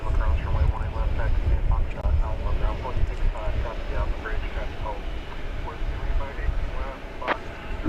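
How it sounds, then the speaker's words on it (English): A United Airlines Boeing 737-700 airliner on runway 18 left at DFW Airport, its engines making a broad roar mixed with wind on the microphone, with voices talking faintly underneath throughout. "We've got this United aircraft. This is a 737-700."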